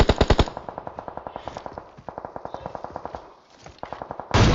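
PUBG Mobile gunfire, loud rapid bursts of automatic fire in several strings with brief pauses, close and punchy, ending in a sudden louder blast.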